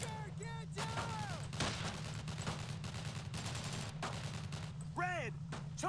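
Sustained gunfire from Brothers in Arms: Road to Hill 30 during an assault on a farmhouse, dense and continuous rifle and machine-gun bursts running throughout, with shouted voices cutting in over the shooting.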